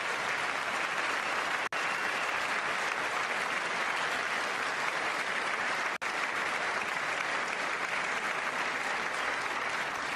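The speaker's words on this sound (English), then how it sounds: "I wasn't sure if anybody even on this side was going to applaud for that." Sustained applause from an audience during a political speech, steady dense clapping filling the whole stretch at a moderate distance, with no voices rising above it.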